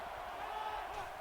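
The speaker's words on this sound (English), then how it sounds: "So this crowd is making their presence felt." Stadium crowd noise in an NCAA Football video game during a Georgia dynasty game, a steady broad roar of cheering on third down, fairly faint and continuous.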